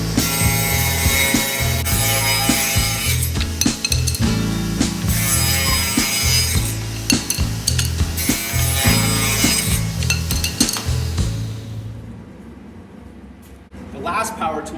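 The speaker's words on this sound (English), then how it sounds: "I took the walnut and cut 3 pieces that were 3/4 by 3/4." Walnut wood is cut into small square pieces with a saw, giving repeated rasping strokes in a steady back-and-forth rhythm, loud and close, before fading to quiet near the end.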